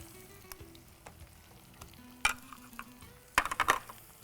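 Peas, carrots and beans tossed into a pan with sautéed onions, a faint sizzle broken by a sharp burst as the vegetables hit the hot oil, then a cluster of loud stirring scrapes and clatters.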